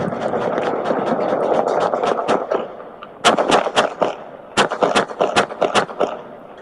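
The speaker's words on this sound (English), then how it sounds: "7-3 got shots fired. Suspect down. Shots fired." Police gunshots in an officer-involved shooting in Fresno: a rapid volley of sharp, loud shots, first a dense string, then two clusters of distinct cracks, with no talk over them.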